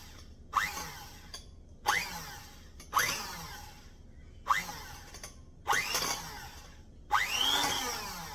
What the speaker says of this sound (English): So I'm going to grab my little blender here and just give it a few little pulses.